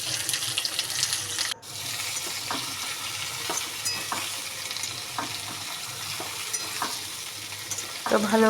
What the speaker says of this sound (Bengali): তেলের মধ্যে আগে সবজিটাকে ভালো করে নাড়িয়ে নিচ্ছি